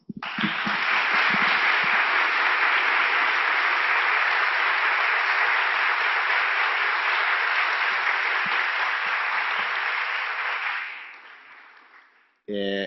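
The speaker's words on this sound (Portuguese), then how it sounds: "Muito obrigado a todos, uma salva de palmas." Sustained applause from a conference audience in Portugal, loud and dense, runs steadily for about eleven seconds before tapering off quickly at the end.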